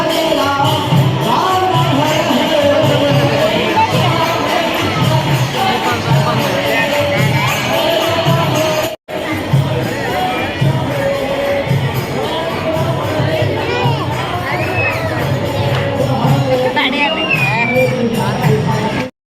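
A large, dense crowd fills an ISKCON temple on New Year's Day with continuous loud chatter and shouting, a steady wall of voices that barely breaks throughout.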